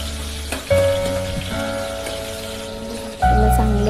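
Chopped tomato, garlic and curry leaves sizzle and crackle in a hot pan, with a loud burst as more ingredients hit the oil partway through, then continued frying.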